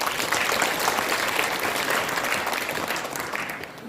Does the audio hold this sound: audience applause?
yes